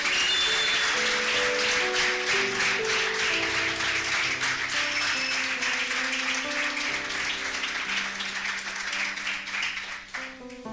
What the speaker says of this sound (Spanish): Dame un aplauso al Señor por eso.